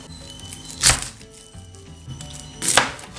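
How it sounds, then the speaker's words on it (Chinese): A knife chops onion on a cutting board for a mushroom cream soup, two sharp, close knocks about two seconds apart with softer handling noise between them. "现在还要切洋葱"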